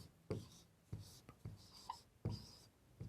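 A pen writing numbers on paper in short scratchy strokes, several separate close taps and scrapes at a quiet level.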